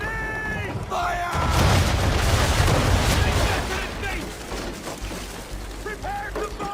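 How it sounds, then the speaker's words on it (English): Ship cannons fire in the Assassin's Creed 3 naval battle, a heavy, rumbling broadside boom that rolls on for a few seconds amid the sea and battle noise, with voices calling out around it. "Now, aim all guns at her bow and do as much damage as possible. Make ready! Fire!"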